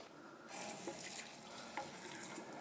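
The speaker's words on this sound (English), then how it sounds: "Again, lovely warm rinse." Warm water running through hair during a salon rinse, a steady broadband splashing and hiss that begins abruptly after a short quiet start and continues close and loud to the end.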